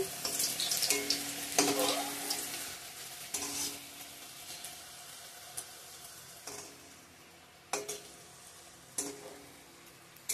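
Puris fry in hot oil with a continuous soft sizzle, broken by occasional louder clattering bursts as they are stirred and turned, close by.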